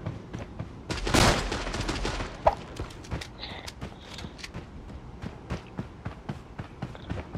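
Gunfire in the video game Creative Destruction: a burst of rapid shots near the start, then scattered sharp pops and footstep-like taps continuing at a steady, moderate level.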